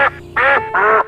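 Ducks in a very quiet, peaceful village with canals and small wooden bridges, three loud, close nasal quacks in quick succession with short pauses between, nothing else audible.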